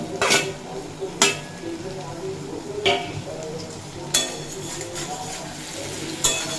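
Fried okra is tipped into a spiced tomato masala in a pan and stirred with a spoon, giving several sharp clinks and scrapes at irregular intervals over a soft sizzle.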